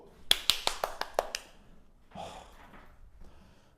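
A short burst of sharp hand claps from a small group of students in a high school chemistry class, about eight quick claps in the first second and a half, followed by faint breathy room noise.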